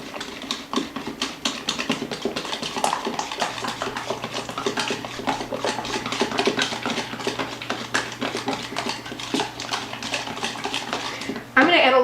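Gravy for pork chops with stuffing being mixed in a pan: quick, busy scraping and clinking of a utensil against metal, rhythmic and close, with a person talking over it and a louder clatter at the end.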